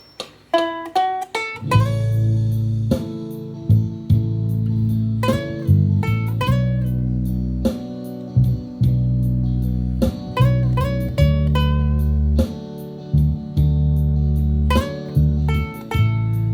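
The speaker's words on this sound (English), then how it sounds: "It's a backtrack I put together so you can actually have some bass and drums and guitar in the background" Bright ukulele strumming of a song over a steady backing track of bass, drums and guitar, playing continuously at a moderate tempo with no voices.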